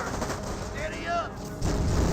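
Gunfire crackles in a Company of Heroes battle, with a rapid .30 cal machine gun rattle and distant explosions rumbling underneath, all at a fairly steady, busy level while a commentator talks over it.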